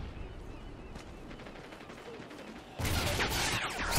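Rapid automatic fire from a gun in Call of Duty Ghosts on the Stonehaven map, a steady run of close shots that jumps into a much louder, harsher burst about three seconds in.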